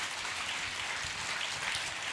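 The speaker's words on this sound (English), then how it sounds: "I think that's worth a clap" A large conference audience at Hillsong Conference in Sydney applauds, a dense, steady wash of distant clapping filling the hall without distinct individual claps.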